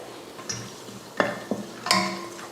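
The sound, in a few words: cloves, cardamom, cinnamon, star anise and bay leaves frying in oil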